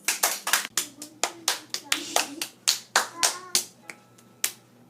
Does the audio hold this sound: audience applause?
yes